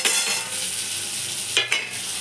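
Chicken masala with chilli powder and spices frying in a pan, a steady broadband sizzle with two brief scraping stirs near the end, close and fairly loud, no talking.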